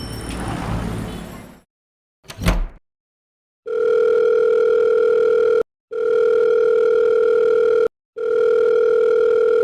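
A phone call's ringback tone repeats unanswered, three long steady electronic tones separated by short gaps, clear and close after a brief rustle and a small knock.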